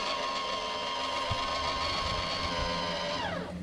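A remote-controlled climate unit in a workshop runs its fan with a steady motorised whine and faint hum, close by, then spins down with a falling pitch at the end; no one speaks.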